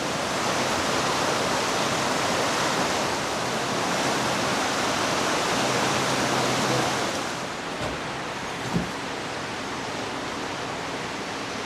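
Floodwater runs like a creek where there is normally none, a steady broadband rush of flowing water close by, dipping slightly in level partway through with a small knock near the end.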